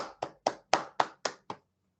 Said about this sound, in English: maybe a round of applause for the panelists, or a virtual round of applause